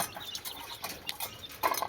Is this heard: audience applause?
no